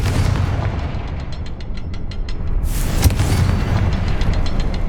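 A Confringo blasting spell goes off inside a cavern in the Hogwarts Legacy video game, a loud, sharp explosive crack over a constant rumbling bed of game ambience, with a rapid pulsing crackle before it.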